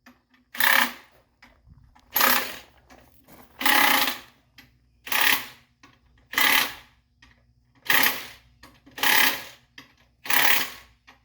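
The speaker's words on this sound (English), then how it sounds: "Love those impact wrenches, huh?" Someone works on a broken-down tamper with an impact wrench, which fires in about eight evenly spaced loud bursts of rapid hammering, each lasting just under a second, with quiet gaps between them.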